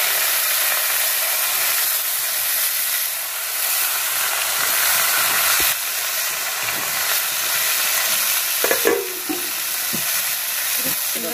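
Kalmi greens sizzle steadily in hot oil tempered with black cumin and dry chilli. The frying hiss is loud and close throughout, with a few stirring clicks toward the end.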